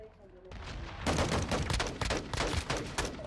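Gunshots from a video game rattle out in a rapid, loud burst after a brief quieter moment, with the shots packed closely together.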